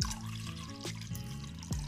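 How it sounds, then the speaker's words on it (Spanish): Cold water pours steadily into a bowl of dissolved gelatin, a close continuous liquid stream with small splashes and gurgles throughout the short moment. "le vamos a añadir los 285 mililitros de agua restante,"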